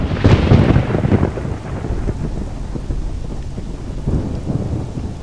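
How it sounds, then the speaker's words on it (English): Thunderstorm in the video game Alternativa: a loud rolling thunder crack opens, then steady heavy rain hisses on surfaces while low rumbles keep returning, with no voices present. "The local storms are more and more frequent."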